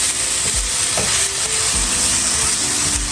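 Blackened catfish sizzling loudly and steadily in a hot pan, a dense close-up frying hiss with a few soft thumps of the fish shifting.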